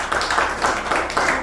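A church congregation claps in acclamation, a quick run of rhythmic handclaps in steady beats, fairly close and dense, without speech over it.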